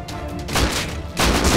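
Gunfire in the video game Rust: two loud, close bursts of shots, the first at the start and a second after a short gap, each with a sharp crack and heavy low rumble.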